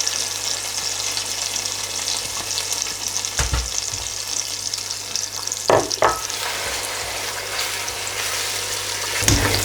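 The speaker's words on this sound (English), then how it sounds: "we're going to fry this for around 6 to 7 minutes on a medium heat setting" Onion cashew paste frying in a pan over medium heat gives a steady, close sizzle, broken by a few brief knocks and scrapes from stirring.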